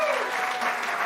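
Studio audience applause on a talk show, a steady dense burst of clapping filling the whole moment at close range, with faint voices mixed underneath.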